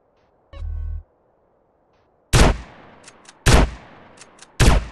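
Gunfire in GTA San Andreas Definitive Edition: a short low blast, then three loud, sharp bursts of rapid shots with quieter single pops between them, close and punchy against a quiet background.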